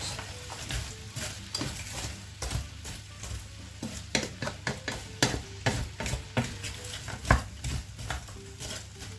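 Leek cooks gently in a pan, a soft sizzle under repeated scraping strokes of a utensil stirring it, close up and with no talking.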